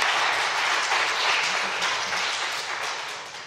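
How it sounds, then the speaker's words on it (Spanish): An audience at a lecture event gives a welcoming round of applause to the speaker Nieves, with steady, dense clapping that tapers slightly toward the end. "nada más que les pido un aplauso de bienvenida para Nieves, de agradecimiento"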